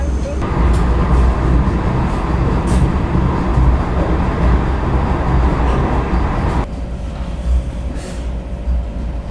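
Inside an AC chair car of the Vande Bharat Express running between Udaipur and Jaipur, a loud, steady rumble of wheels and air-conditioning fills the cabin, with a faint hum and a slight drop in level late on.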